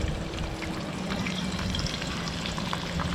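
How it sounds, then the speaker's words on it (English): Mangrove snapper frying in a pan, a steady close sizzle and crackle of hot oil that holds without break, with no talk over it. "You can hear that sizzle."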